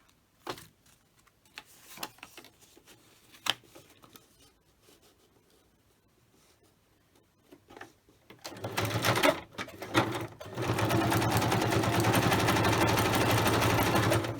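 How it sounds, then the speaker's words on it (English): Faint clicks and bumps give way to a sewing machine running steadily and loudly, its rapid stitching whir continuing to the end. "my sewing machine wasn't very happy"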